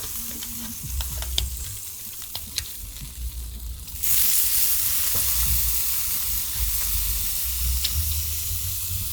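Huge jerk pork sizzling over coals outdoors after being flipped, a close steady frying hiss with scattered pops and scraping, swelling into a louder, brighter sizzle midway and holding there.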